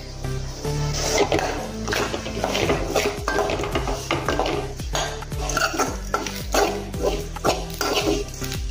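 Grated coconut stir-roasting with masala and mustard seeds in a pan, a spatula scraping and knocking against the metal in steady, repeated close strokes with no voices.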